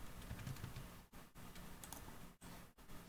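Quiet, fast typing on a computer keyboard during a computing lab session, with soft, irregular key taps and a few short pauses, heard alone in a quiet room.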